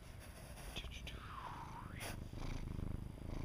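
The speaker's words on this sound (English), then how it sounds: "He's purring, but not as loud as he was." A pet cat purrs up close in a low, continuous rumble while a soft whispering voice talks over it.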